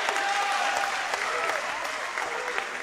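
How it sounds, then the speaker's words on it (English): Crowd at a DME versus Potter's House Christian high school basketball game cheering and applauding loudly, a dense steady wash of clapping and shouts filling the gym throughout. "this DME crowd's getting excited"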